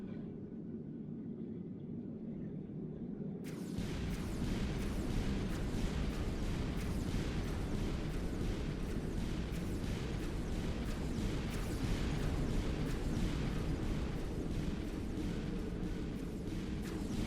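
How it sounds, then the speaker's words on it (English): Orbital ion cannon strikes in the game FortressCraft Evolved set off a dense series of heavy explosions, pounding again and again in a continuous booming barrage that starts abruptly after a few seconds of quieter rumble and carries on loud with no talk. "the final few explosions are the ones that really hit you"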